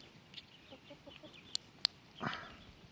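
Village chickens give a few faint, scattered clucks amid quiet ambient noise, with a couple of sharp clicks and a brief rustle partway through.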